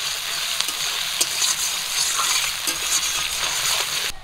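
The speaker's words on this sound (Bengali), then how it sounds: "পেঁয়াজগুলো একটু লাল করে ভেজে নেব।" Chopped onions and slit green chillies fry in hot oil with cinnamon, cardamom and cloves for a fish roe curry, a steady close sizzle with faint stirring clicks throughout and no talking.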